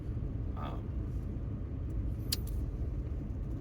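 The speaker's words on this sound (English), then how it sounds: "There's a lot of tire noise right now because, well, the tires suck." Steady, loud road and tire roar inside a moving Nissan Xterra on worn, poor tires, a continuous low rumble throughout with a brief faint jingle near the end and no talking.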